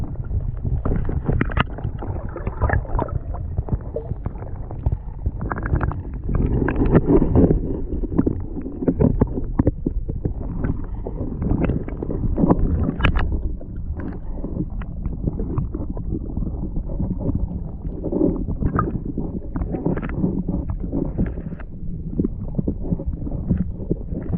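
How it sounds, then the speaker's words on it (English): Wind buffets the microphone in a steady low rumble near mangroves in the Florida Keys, with gusts swelling and fading throughout. "Now it's windy right now"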